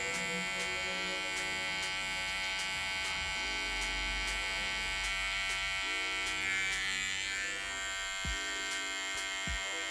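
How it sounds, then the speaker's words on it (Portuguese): An electric hair trimmer finishing a fade haircut, a steady close buzzing whine running continuously with slight shifts in pitch as it moves over the head, no talking. "Aproveito que eu tô com a máquina de acabamento, já venho e já faço esse acabamento aqui"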